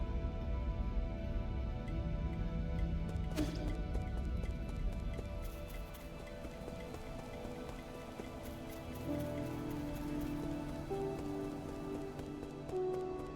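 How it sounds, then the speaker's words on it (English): Rain falling in the video game Nine Sols during a morning scene, a steady hissing patter of drops that stays even and fairly faint for the whole stretch, with no talk over it. "We can have morning with rain."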